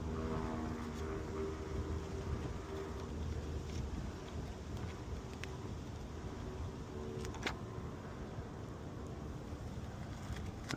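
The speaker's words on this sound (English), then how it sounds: "Oh, the wind is not helping." Steady outdoor wind buffeting a microphone during an installation job, a constant low rumbling roar with a few faint clicks and handling noises on top, fairly quiet and unbroken.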